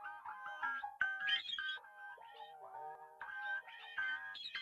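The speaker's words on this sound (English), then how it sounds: "it's really just kind of like a melodic, textured, atmospheric ear candy" Melodic, textured, atmospheric synth ear candy layer for a smooth R&B sample, with shimmering bell-like tones gliding and chirping between mid and high pitches, playing alone in short swelling phrases at moderate volume.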